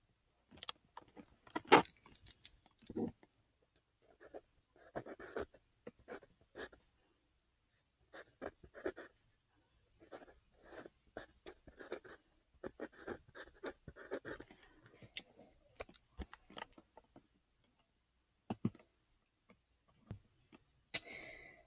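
Pen writing on paper while working decimal calculations, quiet close scratching strokes in short irregular bursts separated by silent pauses, occasional small taps and no talk.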